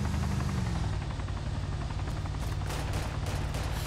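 Rapid gunfire in the DayZ Overpoch survival shooter, a dense continuous burst of shots sustained for several seconds over a low engine-like rumble, loud and close.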